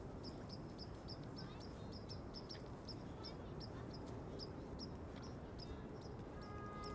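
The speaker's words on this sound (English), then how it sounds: "Yeah, Nicole, these bird sounds sound really sweet for sure." Birds outdoors in New York City give a string of small, high chirps, repeated steadily but faint beneath a constant roar of city traffic and street noise.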